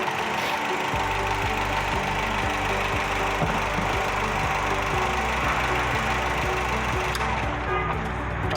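Daewoo Nexia 3 engine idling on petrol, a steady low rumble with a regular ticking pulse running throughout, close and constant.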